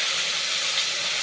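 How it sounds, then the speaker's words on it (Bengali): Pre-boiled potatoes fry in a little oil with a dried chili, a steady, even sizzling hiss that holds without a break and without voices. "আলুটা একটু ভেজে নেই"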